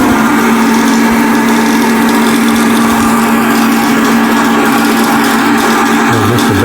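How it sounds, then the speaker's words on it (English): A bandsaw cuts a last section off a piece of wood for a table leg, a loud continuous whining drone with a steady tone that carries on without a break from start to finish. "The bandsaw's coming pretty handy today."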